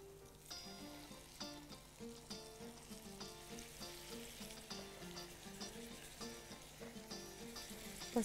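Shish tawook chicken pieces sizzle in a hot pan, a steady close crackling fry with faint rhythmic stirring clicks over background music, no talking.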